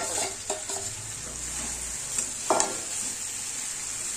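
Marinated meat sizzles and fries in a hot pan while being stirred with spices, with steady hiss and a few scraping stirs and utensil knocks close by, no voices.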